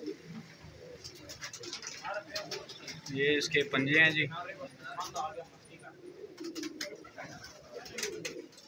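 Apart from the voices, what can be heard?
pigeons cooing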